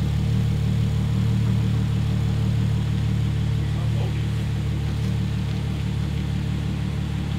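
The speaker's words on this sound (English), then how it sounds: "AWE did a great job with how this exhaust sounds. At idle, it sounds pretty much like normal." A 2012 Audi B8 S4 with an AWE Track Edition aftermarket exhaust idles steadily with a low, even rumble from the exhaust, close and unchanging, with no talking.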